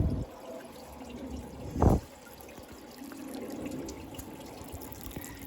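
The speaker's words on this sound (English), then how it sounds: "Now the pump that we turned back at the source is pumping water into these plants." Water from a rain-barrel pump trickles through fill tubes into self-wicking plant pots. The flow is soft and continuous, with one brief louder gurgling splash partway through and no talking.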